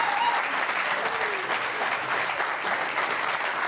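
Steady applause from an audience at a Nikki Haley political appearance, a dense wash of clapping that stays even throughout, with a faint voice briefly audible at the start.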